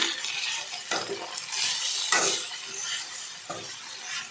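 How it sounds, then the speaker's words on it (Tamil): Chopped mint and coriander leaves sauté in a pan for a chutney, giving a soft, steady sizzle broken by several scraping stirs of a spoon against the metal. "நான் இப்போ இதை நல்லா வதக்குறேன்"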